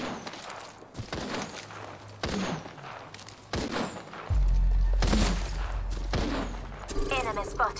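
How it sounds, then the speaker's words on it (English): Gunfire in the battle royale shooter Apex Legends, scattered bursts and single shots with thuds and a heavy low boom midway, mixed with game sounds and a player's voice talking. "It's enough, I'm getting shot at."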